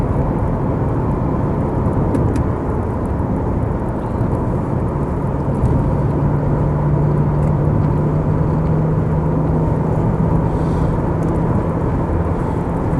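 A Porsche 928S cruises at speed with a steady, loud roar of engine, drivetrain and road noise and a faint sustained drone, continuing without a break and with no talking.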